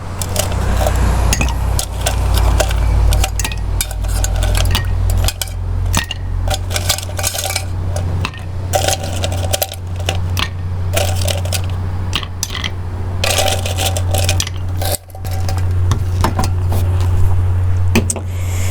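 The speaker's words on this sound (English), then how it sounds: "you fill up the glass with ice" Ice cubes tumble into a mojito glass with a steady run of clinks and rattles over a low electrical hum.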